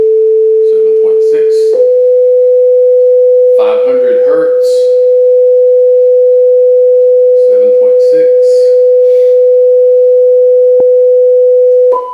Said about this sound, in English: This is your sine wave everybody's so concerned about.